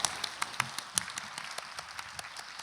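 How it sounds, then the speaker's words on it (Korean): A church congregation at a Sunday young adults' worship service claps in praise, with scattered, fairly quiet handclaps forming a loose, uneven patter rather than a full ovation. "하나님께 영광의 박수 올리겠습니다."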